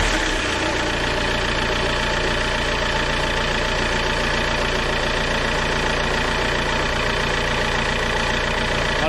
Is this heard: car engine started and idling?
yes